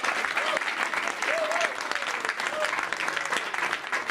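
A crowd at a Leeuwarden water-championship event breaks into dense, continuous applause. The clapping stays loud and steady throughout, with faint voices mixed in.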